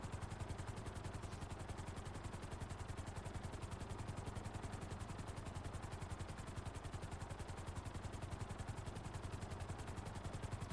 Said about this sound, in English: make sure you have the blue helicopter on your map, and you just slowly follow it